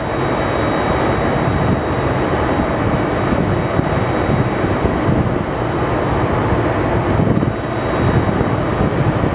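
Airliners at Phoenix Sky Harbor Airport, a steady loud jet engine roar and rumble filling the whole stretch without pause, with no talk over it.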